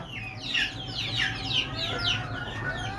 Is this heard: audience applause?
no